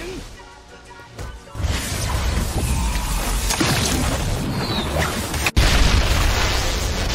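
A black flash attack in a Roblox Jujutsu Kaizen game bursts out as a booming, crashing explosion with whooshing debris, followed by a sharp hit near the end, all loud and up close.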